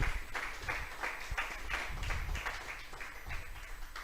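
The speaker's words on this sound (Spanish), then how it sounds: "Vamos a brindarle un fuerte aplauso a nuestro Dios." A church congregation claps together in a rhythmic, pulsing pattern, roughly two beats per second, moderately loud with a low thumping undertone, as if clapping along in time rather than scattered applause.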